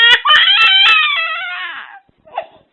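A baby girl cries loudly and close, a sustained high wail with sobbing catches, followed after a short pause by a brief quieter whimper.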